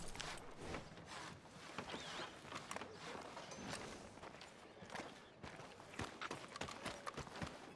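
Horse hooves clip-clop at a walk on a western town street in Red Dead Redemption 2, a quiet, steady rhythm of close hoof strikes under faint background ambience.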